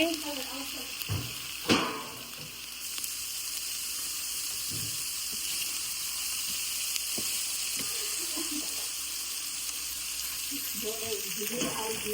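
Bottle gourd skin sizzles steadily as it fries in a pan, a continuous hiss with a few clinks from stirring near the start, while voices talk over it.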